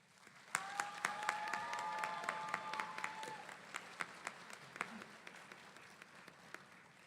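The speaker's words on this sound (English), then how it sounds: "Please recognize and thank them with your applause." Audience applause at a college commencement ceremony: a steady wash of clapping from a large crowd, heard from a distance, with a few sharper individual claps standing out and a brief tonal sound early on before the applause fades slightly.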